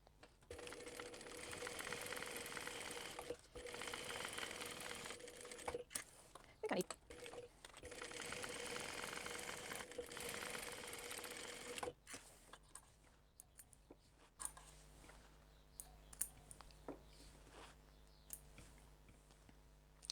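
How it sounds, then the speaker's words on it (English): A sewing machine stitches down the seam edges of a fabric crossbody bag in two long runs of rapid mechanical whirring, then falls quiet while softer clicks and handling noises follow. "we want to stitch down each edge at the seam allowance mentioned in the pattern. You might need to fold that over to get it under your machine"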